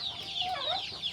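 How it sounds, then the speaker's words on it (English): A flock of village chickens in a Subanen forest community in Zamboanga, Philippines clucks and chatters nearby, a soft, continuous jumble of overlapping calls. "There's like an army of chickens behind me."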